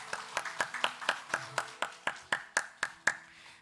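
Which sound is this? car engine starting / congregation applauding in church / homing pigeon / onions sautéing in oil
congregation applauding in church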